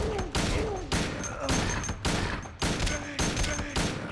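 Shotgun blasts from the video game Silent Hill 2 boom out roughly every half second, a loud, steady series of heavy shots with no pause between them.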